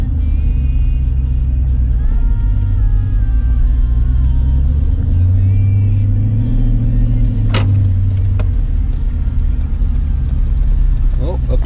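A Jeep SRT running on E85 after a conversion kit install drones with a steady, loud engine and road rumble while driving, a low hum that holds throughout as the engine note rises and falls with the throttle.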